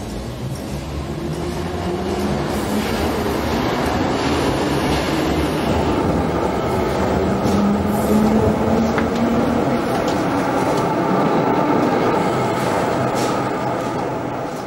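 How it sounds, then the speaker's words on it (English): A train running on its rails in Tokyo, a loud continuous rumble with rattling wheel noise and faint clatter, steady throughout from close by inside or beside the carriages. "Toro Toyoda gets on his assigned train."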